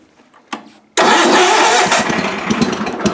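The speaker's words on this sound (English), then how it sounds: "Two is the 78 GT18 Suburban. Might fire up." A 1978 Suburban GT18 garden tractor engine gives a brief cranking burst, then catches about a second later and runs loud and steady up close.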